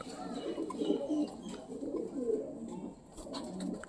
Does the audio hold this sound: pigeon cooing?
yes